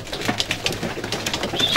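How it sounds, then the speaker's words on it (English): An Irish homing pigeon, a well-bred stock hen, coos softly and close by in short repeated murmurs over a quiet room background. "She's a really well-bred pigeon, and she is a fine pigeon in the hand"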